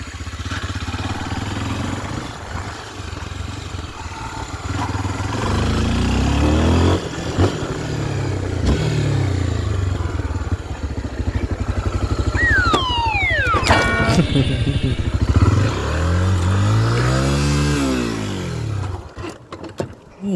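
A motorcycle engine revs hard, its pitch sweeping up and down in repeated surges, with some mechanical clatter near the end.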